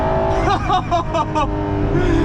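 A Ferrari LaFerrari's V12 engine roars loud and close under hard acceleration, a dense continuous snarl, while a voice lets out excited exclamations over it.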